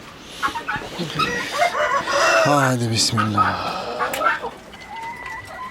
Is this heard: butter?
no